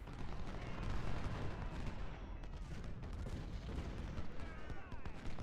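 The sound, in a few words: artillery fire and rifle volleys in Ultimate General: Civil War video game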